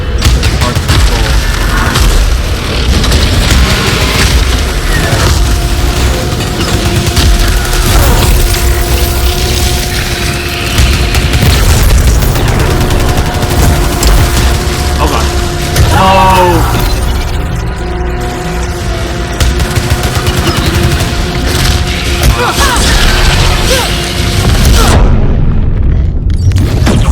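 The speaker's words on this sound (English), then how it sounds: "It's a little hard for me to adapt to a newer weapon that does single shots." Single-shot weapon fire in Returnal booms out again and again through a loud, busy mix of mechanical clanks and game effects, with speech mixed in here and there.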